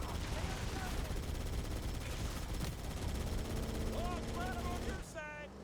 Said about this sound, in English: You see the turret turning all like hot because of all the constant firing